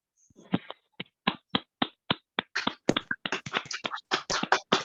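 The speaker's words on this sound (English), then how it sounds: "Can we all please unmute ourselves and give Haidee a round of applause?" Scattered claps from an online audience after a poetry reading, picking up from a few sharp separate claps into a denser flurry, close and clear.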